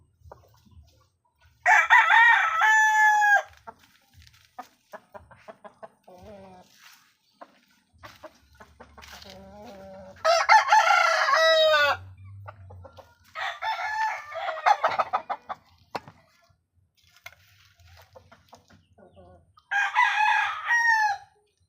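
Roosters crow loudly several times in bursts, with chickens clucking in between and someone talking quietly during the pauses.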